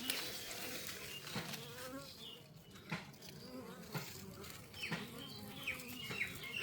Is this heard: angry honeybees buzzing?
yes